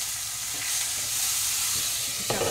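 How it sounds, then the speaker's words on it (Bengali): Ginger and cumin paste frying in a pan, a steady close hiss of sizzling and spattering with brief stirring scrapes, loudest near the end. "চাপা দিয়ে দেবো, প্রচণ্ড ছিটকে যাচ্ছে।"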